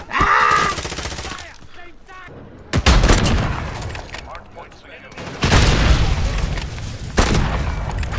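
A C4 charge explodes amid gunfire in a Modern Warfare match: loud booming blasts at intervals with bursts of rapid shots between them, close and heavy.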